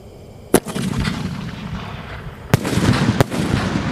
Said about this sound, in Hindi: ये चल रहा हमारा सनशाइन का इसका शोर, देखते हैं ये कैसा चलता है